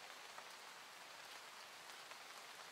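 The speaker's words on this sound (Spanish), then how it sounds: "Te dejo ahora que descanses en esta experiencia de la lluvia." Steady, even rain hiss falling on a surface, soft and continuous with faint scattered droplet ticks and no voices.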